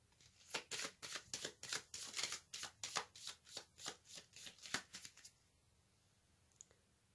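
Tarot cards being shuffled in a rapid riffling run of crisp paper flutters for about five seconds, then quiet with one faint tap near the end.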